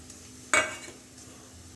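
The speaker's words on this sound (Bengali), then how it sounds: "ভালো করে মিশিয়ে দিচ্ছি দিয়ে দেব কাঁচা লঙ্কা কুচি" A spoon stirs a sweet potato dish in a pan as chopped green chili is mixed in, giving two brief clattering scrapes against the cookware, near and fairly loud, with quiet pauses between.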